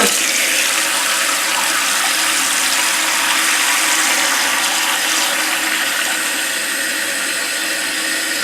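Water rushes steadily into a toilet tank, a continuous loud hissing fill with no pauses.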